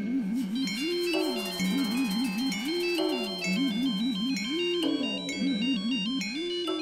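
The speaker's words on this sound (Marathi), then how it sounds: "कोणाचा फोन आहे, निलिमाचा आहे का?" A phone ringtone plays a repeating electronic melody, loud and steady, cycling through the same warbling phrase several times with no voices over it.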